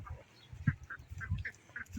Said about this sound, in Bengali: আমরা দেখছি হাঁস আসতেছে